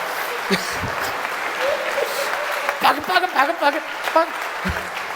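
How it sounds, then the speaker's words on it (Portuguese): Applause from a church congregation during a Portuguese-language sermon, a steady patter of clapping lasting several seconds with a few voices calling out over it. "Dá um aplauso para Jesus aí, irmão, que tá bom."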